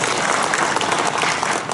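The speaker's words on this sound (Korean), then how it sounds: "이럴 때 박수를 한번 쳐야" Loud, dense applause from an audience at a special lecture in Hapcheon County, a continuous close crackle of many clapping hands filling the short moment.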